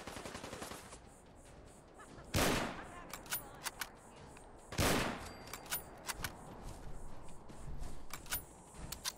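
Bursts of automatic rifle fire in Fallout 4, a loud rapid volley near the start and another a few seconds later, followed by scattered single sharp shots and clicks.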